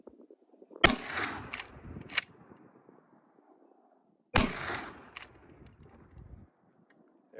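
Two sharp, loud rifle shots several seconds apart from a Henry 45-70 lever-action firing HSM Cowboy Action 405-grain cartridges outdoors, each blast followed by a short rolling echo and lever-action clatter.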